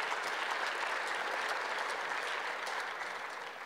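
Steady applause from an audience at a National Governors Association winter meeting, a broad even wash of many hands clapping, moderately loud and slowly fading toward the end, with no speech over it.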